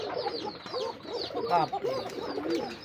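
Bashiraj pigeons, a collection of paired birds on a pigeon farm, coo and burble in overlapping, continuous low calls, close and fairly loud, with a few sharper chirps mixed in.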